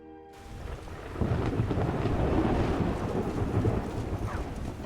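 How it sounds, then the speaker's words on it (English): Rain pours steadily in The Elder Scrolls V: Skyrim, a low thunder rumble rolling in after the first second and holding loud and broadband throughout, with no voices. "It's raining."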